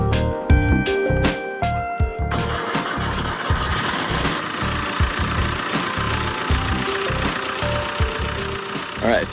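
A sailboat's engine running steadily at close range, with a rumbling low-mid drone and knocking pulses, starting with a few sharper clanks before settling into a continuous idle-like hum.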